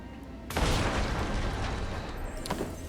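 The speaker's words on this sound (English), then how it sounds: "Let us bomb this chest." A bomb detonates against a chest in Guild Wars 2, a single sudden boom followed by a sustained rumbling roar that slowly fades over a couple of seconds.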